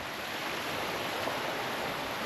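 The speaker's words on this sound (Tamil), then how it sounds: "சல தண்ணி ஓடுற சவுண்டு தாங்க கேட்குது" Water rushes over algae-slick rocks in a shallow stream at Vathalmalai, a steady, close, unbroken hiss with no voices.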